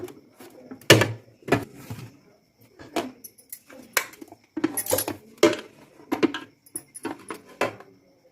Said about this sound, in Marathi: पालटी करून घेऊया भांड्या